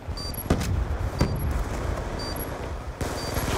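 Rapid automatic gunfire and sharp single shots in Black Ops 2 multiplayer on the Nuketown 2025 map, dense overlapping bursts with a few loud cracks, continuous and close with no talking.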